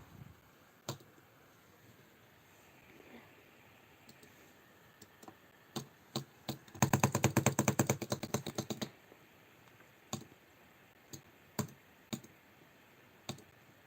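Sparse sharp clicks scattered over quiet room tone, with a quick burst of rapid clicking in the middle, close and crisp.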